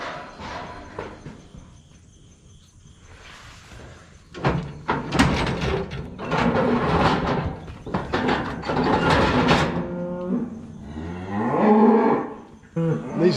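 Cattle low out in a series of loud, drawn-out moos close by, some overlapping, with a door-like clunk in between, on a farm where cows are being checked before sale.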